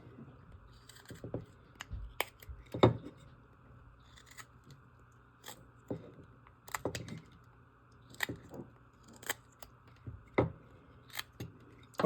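Knife blade slicing into wood while carving a squirrel, a series of short crisp cuts and scrapes scattered irregularly, close and fairly quiet, with no talking.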